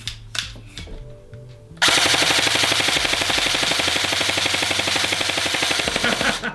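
An airsoft rifle with an Acetech Brighter C tracer unit fires on full auto, a sudden loud, close, rapid rattling burst that runs continuously for several seconds after a brief quiet lead-in.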